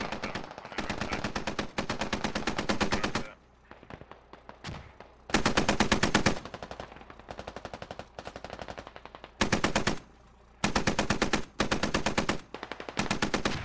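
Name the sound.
gunfire in a video game (SquadOps)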